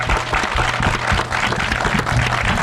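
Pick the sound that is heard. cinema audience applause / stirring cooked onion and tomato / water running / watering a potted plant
cinema audience applause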